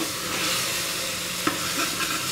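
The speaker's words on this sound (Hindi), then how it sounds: "करीब 2 से 3 मिनट तक हमको इस सब्जी को भूनते रहना है।" Vegetable sabzi being stirred and fried in a pressure cooker makes a steady sizzle with soft scraping of the spoon and a single sharp clink.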